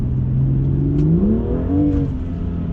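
A BMW M2 engine revs up with a rising, throaty pitch that climbs and then settles, loud and close, with no talking.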